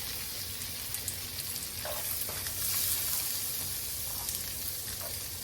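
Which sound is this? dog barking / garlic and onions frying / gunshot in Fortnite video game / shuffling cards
garlic and onions frying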